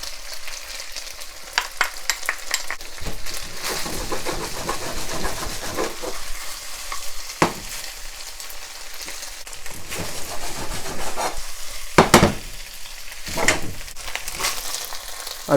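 Garlic stir-frying with nearly cooked beef in a wok, a close, steady sizzle broken by repeated sharp clacks and scrapes of the spatula against the metal.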